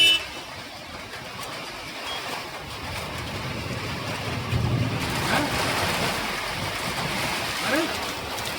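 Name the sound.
heavy wind and rain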